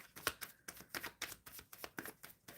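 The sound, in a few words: shuffling tarot cards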